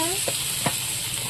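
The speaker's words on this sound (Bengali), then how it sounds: "গুলে মাছ দিয়ে বরবটি ভাজা" Goby fish and yardlong beans frying in a pan give a steady close sizzle, with a couple of brief stirring scrapes.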